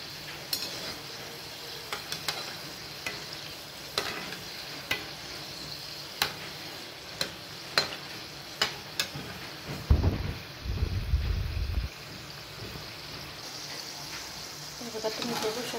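Modak dumplings fry in hot oil with a steady close hiss dotted by sharp pops, swelling into a louder, denser burst of bubbling for about two seconds near the end.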